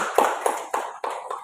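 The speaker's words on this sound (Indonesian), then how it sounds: "berikan aplaus atau tepuk tangan" Applause from a class audience during a teacher training session, a few loose bursts of clapping over about a second and a half, fairly close and moderately loud, with no voices.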